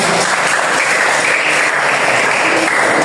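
Dense, loud applause from a crowd, continuous clapping that holds steady from start to finish.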